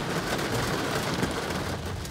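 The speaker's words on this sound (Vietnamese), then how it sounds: "mưa hiện tại ờ, theo quan sát thì cũng rất là nặng hạt lượng mưa rất lớn" Heavy storm rain pours at midday in Phu Quoc, Vietnam, as a typhoon passes, a dense, steady roar of downpour with no pauses and no voices.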